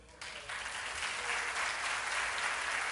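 Church congregation breaking into sustained applause, a dense, steady wash of clapping that starts abruptly and holds at a full, even level throughout.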